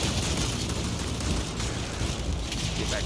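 A grenade goes off in the video game Gears of War 5, giving a loud, dense blast that rolls on as a sustained booming rumble for several seconds, with no clear talk over it.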